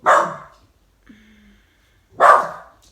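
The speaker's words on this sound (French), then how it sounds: "Loki, mon chien, ne va pas aboyer pendant la vidéo" A dog barks twice, loud and close, with a pause between; a faint high whine sounds briefly in the gap.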